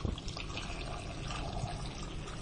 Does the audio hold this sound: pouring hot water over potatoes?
yes